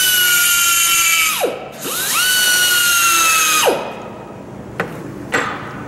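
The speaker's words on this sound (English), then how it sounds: "I like to use a die grinder because these marks aren't going to disappear or fade or anything like that" A die grinder marking a driveshaft: a loud, high-pitched whine that winds down and spins back up, then dies off, followed by a couple of short sharp clicks, close up with no talking.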